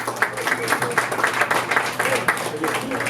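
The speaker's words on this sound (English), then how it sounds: "Give yourself a big round of applause" A crowd claps for the opening night of the Idaho Laugh Festival at Liquid Labs, a comedy show. Scattered hand claps come in short bursts beneath someone speaking into the microphone.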